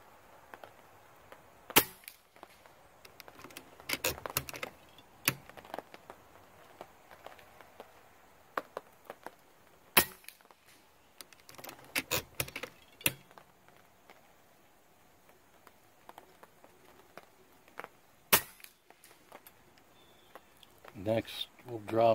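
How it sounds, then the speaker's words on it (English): A tuned air rifle fires at its maximum power setting, about 945 feet per second, giving sharp isolated cracks spaced seconds apart, with quieter handling clicks and low talk between the shots. "we're going to try it on the max setting, which is about 945 feet per second. We'll take three shots each."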